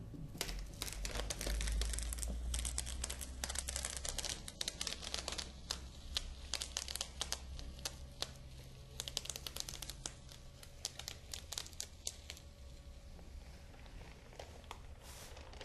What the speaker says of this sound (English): slowly peel back your paper to make sure that you don't pull up any of your vinyl